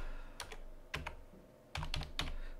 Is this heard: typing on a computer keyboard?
yes